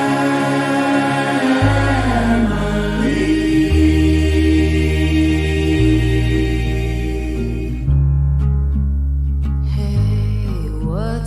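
A song plays clearly, a steady sung melody over sustained low bass notes that change every couple of seconds, with a brief sparse lull near the end before the fuller sound returns.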